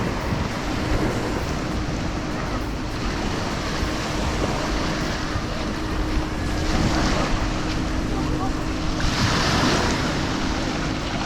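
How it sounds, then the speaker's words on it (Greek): Sea waves at Agios Stefanos beach on Corfu, a continuous wash of surf with wind buffeting the microphone, steady and fairly loud with swells of surge, no talking. "Παραλία Άγιος Στέφανος στη Κέρκυρα."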